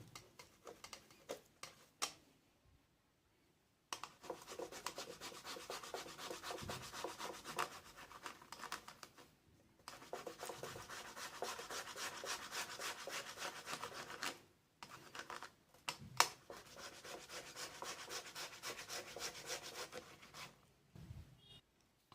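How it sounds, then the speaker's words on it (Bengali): Boiled potatoes mashed with a grater-type masher for a kachori filling make faint, rhythmic rubbing and scraping. It comes in three long, steady bouts split by brief pauses, with no talking. "এবার আলুটাকে এরকম একটা গেটার মেশিন দিয়ে ম্যাশ করে নেব"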